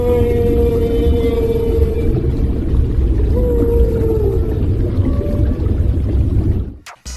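A whale sends out long, drawn-out low moans and sliding tonal calls over a heavy underwater rumble, loud and steady for several seconds before a sudden dropout at the end.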